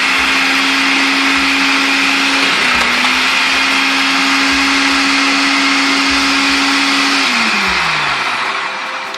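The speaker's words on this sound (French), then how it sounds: "je suis en train de passer au robot mon chou puis mes carottes" A food processor runs steadily while shredding cabbage and carrots, a loud continuous whir with a constant motor pitch that dips briefly midway and winds down at the end.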